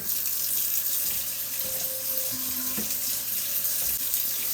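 Hot water runs steadily from a kitchen tap into a sink, a continuous close splashing stream with brief clinks of dishes or utensils, no talking.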